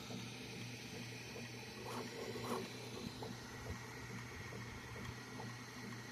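A Bambu Lab A1 3D printer runs at low volume with a steady mechanical hum and soft whirring, plus a few faint ticks and light clicks spread through a continuous drone.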